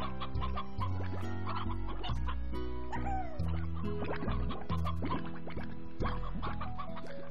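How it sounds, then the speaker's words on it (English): Chickens in the video game Slime Rancher cluck in repeated short bursts, set against steady background game music. "Chicken."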